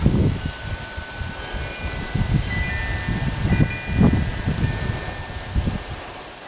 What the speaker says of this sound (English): it's pretty breezy out here this morning